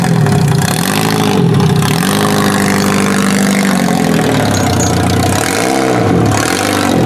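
A car that sat unused for two years runs after starting, its engine idling loud and steady with a few swelling revs, close by and alone.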